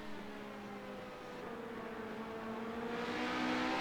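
Race car engines from an LMP2 sports-prototype racing video game drone steadily near pit road, tonal whine rising gradually in pitch and loudness across the stretch, with no talk.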